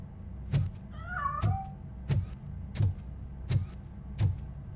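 A cat meows in RoboCop: Rogue City, one short, wavering call rising and falling, set against a steady rhythm of six heavy thudding footsteps and a low background hum.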